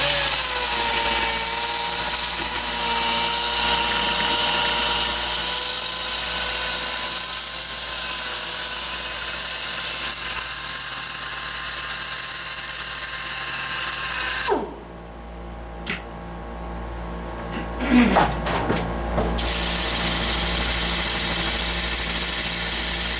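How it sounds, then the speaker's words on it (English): Sanding a wooden crawfish platter spinning on a woodturning lathe gives a loud, steady abrasive rasp over a motor hum, which stops abruptly partway through, followed by a quieter pause with brief knocks before the whirring resumes. "let's sand it"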